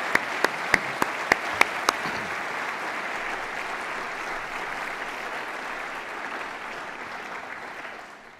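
Audience applause at an academic prize opening address, beginning with a few sharp individual claps and swelling into steady, dense clapping from a large crowd that holds for several seconds before fading out.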